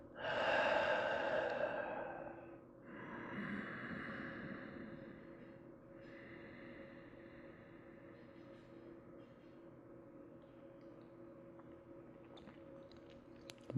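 A person exhales deeply and audibly through the nose during a yoga garland squat, a close breathy rush at the start, then a second softer breath and quiet breathing sounds that fade into near silence.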